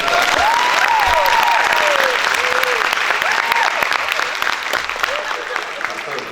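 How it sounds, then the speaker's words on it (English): Audience applause at a Black History Month school assembly at Westside High, a steady, full crowd of clapping sustained throughout, with faint whoops and cheers rising over it. "Let's give her a big round of applause."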